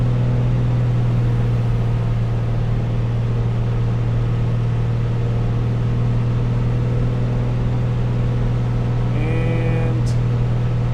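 A2A Comanche piston aircraft engine in the P3D flight simulator, throttled back to reduced RPM, drones as a steady low hum with a constant tone throughout, a faint brief chirp near the end.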